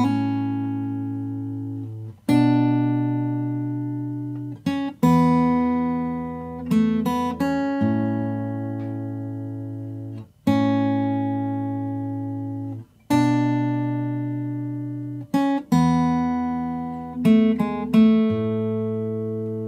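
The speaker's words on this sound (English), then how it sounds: "I've done a little finger picking idea." Finger-picked guitar introduction of a song, with clear plucked notes and ringing chords at an unhurried pace, played close and alone with no voices.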